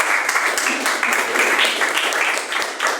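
A church congregation applauding, dense and energetic clapping from many hands filling the room, loud and continuous with a few voices faintly underneath.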